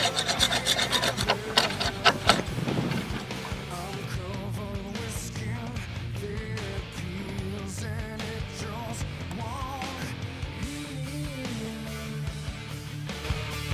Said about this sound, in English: I've got to get the rest of the old glue or